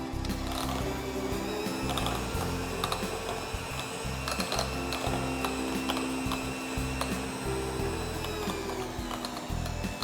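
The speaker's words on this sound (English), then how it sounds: "with my beater, I'm just going to mix this up and make it nice and smooth" An electric hand beater whirs through soft mascarpone cheese in a bowl for eggless tiramisu, a steady mechanical motor hum with rattling, clicking texture that runs continuously and fairly quietly with no voices.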